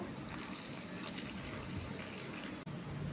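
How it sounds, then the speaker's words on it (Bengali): Lukewarm water trickling in small amounts over yeast, a soft, quiet, close pour and dribble with a brief dropout near the end. "এখানে ঈষৎ উষ্ণ গরম যে জলটা আমি এই ইস্টের উপর দেবো, অল্প অল্প করে দেবো।"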